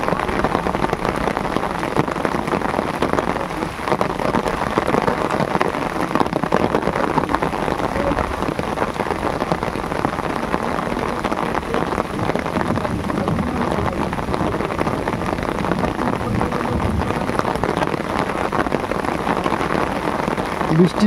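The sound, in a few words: rain falling on Sundarban river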